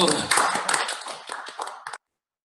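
Symposium audience in a hall giving a brief burst of clapping that mixes with a speaking voice and ends abruptly after about two seconds.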